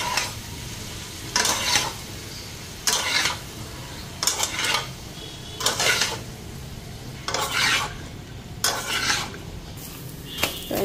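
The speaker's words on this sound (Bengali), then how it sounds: "এখানে পরোটাও ভাজা নিতেছি" Lachha paratha and roti cooking in a home kitchen pan alongside a winter vegetable dish, with a low steady sizzle broken by about eight short, loud bursts of scraping and stirring at regular intervals.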